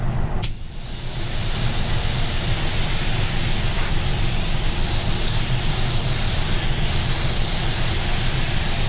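Steady hiss of a spray gun laying paint onto a panel with straight up-and-down passes, loud and continuous after a brief start, with no talk.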